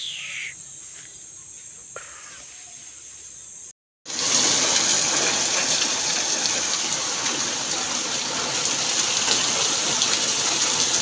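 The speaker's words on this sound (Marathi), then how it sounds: "काय पाऊस आहे, दिवाळीमध्ये पाऊस पडतो." Heavy rain pours in a dense, loud hiss, starting abruptly after a quiet stretch with insect chirping, then continuing steadily without talk.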